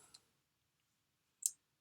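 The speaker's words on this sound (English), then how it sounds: "we'll click in the main screen" A mouse click while working in a graphing screen on absolute value graphs: one faint early tick, then a single sharp, brief click after a silent pause, with no talking.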